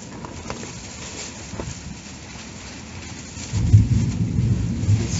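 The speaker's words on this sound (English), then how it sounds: "I can handle the rain, but with the wind it's coming from all sides, making everything wet." Heavy rain lashes down in a strong windstorm in Albania in November, a steady roaring wash that swells suddenly louder and deeper partway through as a gust drives it.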